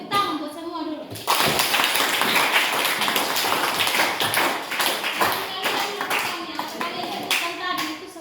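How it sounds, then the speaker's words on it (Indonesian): A class of children claps loudly and steadily for several seconds in a school classroom, with young voices mixed into the dense, crackling clatter of hands. "Tepuk tangan buat semua dulu"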